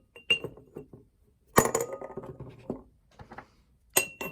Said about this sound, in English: we'll take our smaller container and we'll put our rocks into the container.